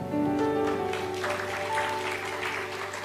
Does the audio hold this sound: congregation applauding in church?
yes